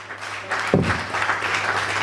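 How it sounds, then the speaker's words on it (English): An audience at a valedictory lecture bursts into applause, the clapping swelling sharply after a brief quiet start and continuing steadily. "A round of applause for him, please"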